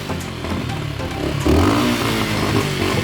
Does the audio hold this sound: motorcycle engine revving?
yes